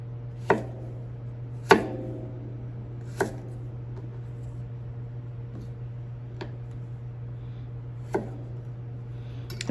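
A knife cuts a carrot into bâtonnet sticks on a board: about six crisp, separate chops spaced unevenly over a steady low electrical hum, close and clear with no talking.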